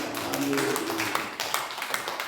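A church worship congregation claps its hands in praise, a dense patter of many hands that starts loud and thins out over a couple of seconds, with some voices mixed in.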